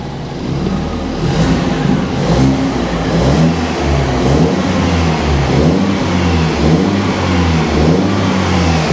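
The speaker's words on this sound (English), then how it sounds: "engine sounds fine. It actually sounds really well." A BMW 220i M Sport engine revs steadily and loudly, its pitch rising and falling in repeated surges over a constant rumble, with no voices.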